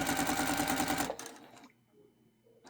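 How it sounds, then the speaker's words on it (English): A sewing machine stitches a quilt seam at a quarter-inch allowance, a fast steady mechanical whir running for about a second before stopping abruptly, followed by faint handling noise and quiet room tone. "I do lock in my stitches, a couple stitches back, and then I just keep it on the quarter."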